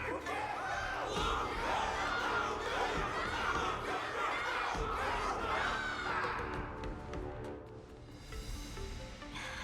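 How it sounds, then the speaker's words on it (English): An in-game crowd in Honkai Star Rail cheers and shouts loudly at a battle event, a dense wash of many voices that fades somewhat toward the end. "Everyone's cheering for you, Luca!"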